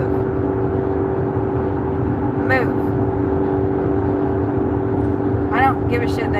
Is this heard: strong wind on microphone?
no